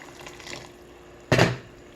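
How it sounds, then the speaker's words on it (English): A short splash of water poured into a pan, loud and close, following a stretch of quiet kitchen background. "I'm going to go ahead and add a little bit more water."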